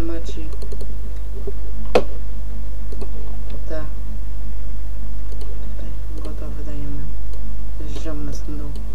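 A server address is typed on a computer keyboard, with quick irregular bursts of key clicks while someone talks over them.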